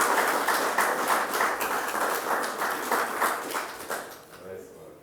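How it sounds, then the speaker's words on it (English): An audience at a cooking relaunch event claps steadily, a dense spatter of hands that carries on for several seconds before tapering off, with a voice faintly over it. "Let's give her a tremendous round of applause"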